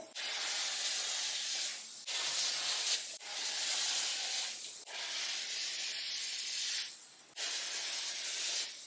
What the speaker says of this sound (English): when you press the button in the front, steam. Let's steam this with the conditioner in it.